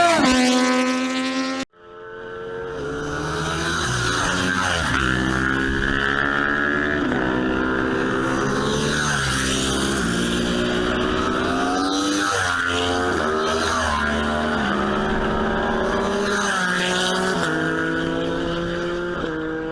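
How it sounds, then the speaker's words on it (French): Motorcycle engines roaring loud and steady on a race track at a riding initiation day, revving up through gears with rising and falling pitch after a brief cutoff, no talk over them. "On entend bien le bruit du moteur!"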